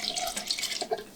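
Water poured from a syringe into a measuring cup while measuring water for mixing concrete countertops, a brief close trickling splash with a few small bright drips near the end.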